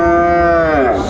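A Sahiwal bull at a cattle market in Dinajpur gives a single loud, close moo lasting about a second, with a droning, slightly falling tone and no talk over it.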